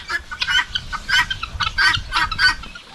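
Hens clucking close by around newly hatched chicks on a farm, a rapid run of short, repeated clucks and chirps in irregular bursts over faint background rustling.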